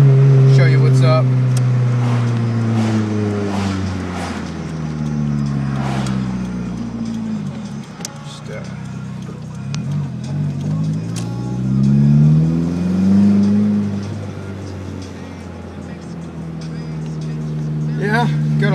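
DSM car driving and pulling in, its engine droning close with revs that rise and fall over the drive, while people talk throughout.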